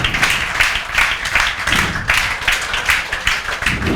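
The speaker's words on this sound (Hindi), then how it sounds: "इनके नाम पे जोरदार तालियां" A class claps loudly and steadily, a dense, sustained burst of many hands applauding together with slight swells in intensity, close and continuous throughout.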